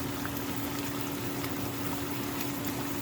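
Steak sizzles in hot oil and bacon grease, a dense, steady frying hiss with a low hum beneath, constant and close without talk.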